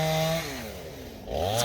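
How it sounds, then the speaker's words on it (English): A chainsaw cuts down trees outdoors near a dam, its engine loud and close, holding a steady buzz before the pitch drops and then revs back up. "So he's cutting down the trees"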